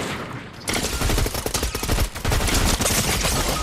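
Rapid automatic gunfire from a video game shooter, loud and close, with dense bursts starting after a short quiet lead-in and running nearly continuously to the end.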